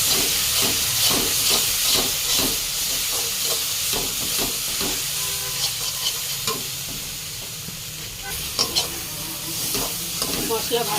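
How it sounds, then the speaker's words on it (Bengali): Turmeric, cumin, coriander and red chilli powders fry in oil for a pomfret curry, giving a dense, continuous sizzle and hiss with rhythmic stirring scrapes throughout and a few louder clanks near the end. "মশলা ভালো করে কষাবো যতক্ষণ মশলা থেকে তেল না উঠে আসে"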